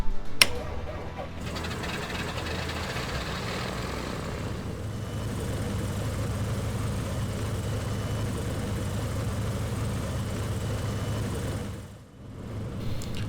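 Twin engines of a BN-2 Islander aircraft in a flight simulator game crank and catch, port side first, then settle into a steady propeller drone that fades briefly near the end before picking up again.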